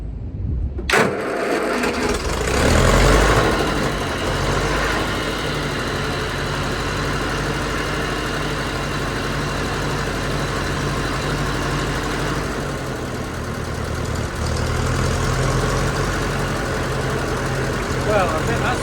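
A small petrol engine, started with key, choke and fuel on, catches with a sudden burst and settles into a steady, loud idle that runs on evenly for many seconds.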